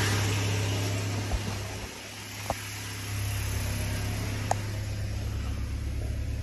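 A Toyota Hilux 2.7-liter 3RZ-FE gasoline four-cylinder idles steadily at a raised speed after an idle screw adjustment, a close, even hum with a few small clicks.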